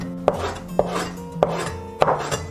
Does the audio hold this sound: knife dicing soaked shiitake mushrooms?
yes